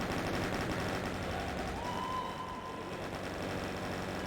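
Rapid chain gun fire in the video game DOOM, played in Horde Mode, a dense continuous rattle of shots that never lets up, with no talking.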